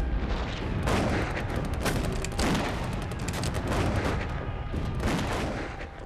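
A World War I battle at Mons: a continuous din of British rifle fire mixed with artillery booms, dense and loud throughout.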